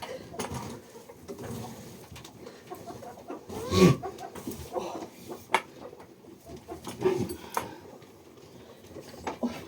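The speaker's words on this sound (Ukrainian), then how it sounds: "Зараз кури, зараз дам вам." Hens cluck in short bursts across the scene, with a louder squawk near the middle and a low rustling background throughout.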